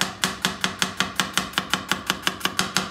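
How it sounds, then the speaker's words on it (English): A knife roughly chopping garlic cloves on a board, about fifteen sharp, evenly spaced chops in a steady fast rhythm, close and clear with no talking. "So I've got garlic here. And we're just going to take that and chop that also."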